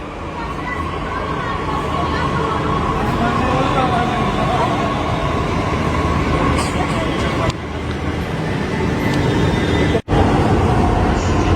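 A Delhi metro train runs with a continuous loud rumble and rolling noise, briefly dipping before the steady roar resumes.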